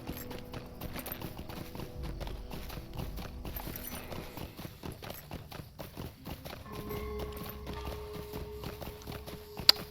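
Horse hooves clip-clop steadily in the Lord of the Rings Online game, a quiet, regular run of hoofbeats with faint ambient tones and no talk over it.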